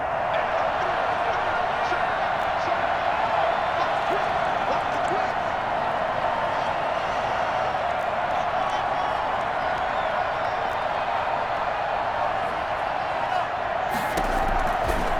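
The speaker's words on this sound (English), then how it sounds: "this crowd rises to make things difficult" In a football video game, a stadium crowd rises into a dense, loud, steady roar that fills the whole stretch, with a slight shift right at the end.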